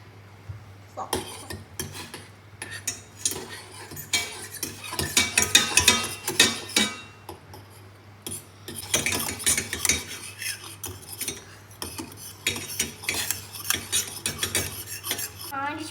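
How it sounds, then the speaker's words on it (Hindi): Cooked noodles being mixed in a metal pot, with utensils scraping and clinking against the sides in irregular bursts, close and fairly loud, under a steady low hum. "नूडल्स बन गए हैं। चल गए थे। अब मिक्स कर लेते हैं।"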